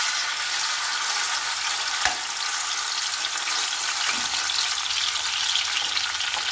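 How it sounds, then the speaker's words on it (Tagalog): Chicken frying in a pan, a steady close crackling sizzle that holds evenly throughout, with a couple of faint utensil taps. "iprito ko na lang muna"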